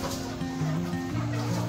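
Desi village hens, around fifteen, with five chicks clucking close by in a shed, a continuous busy murmur of soft clucks and peeps throughout.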